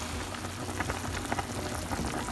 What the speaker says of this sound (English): we got a good boil going on the cabbage